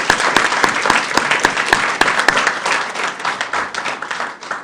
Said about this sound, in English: Round of applause for all those folks